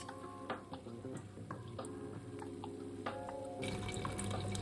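Grated tomatoes cooking down and reducing in a pan for a Spanish meatball sauce, a steady close sizzle and bubbling with faint watery stirring and dripping sounds, no voices.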